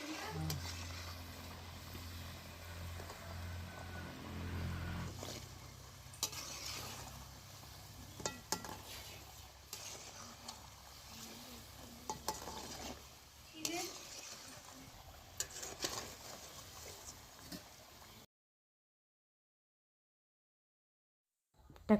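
Paniyaram batter being stirred in a pan beside sizzling frying, with scraping and clinks spread over the first eighteen seconds, then silence; a voice talks over it.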